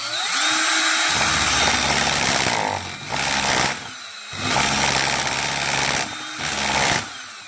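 A rotary power tool trims the top and bottom edges of a brass gearshift-knob pen on a lathe-style setup, a loud, steady high whine that dips briefly in waves between passes, with no talking.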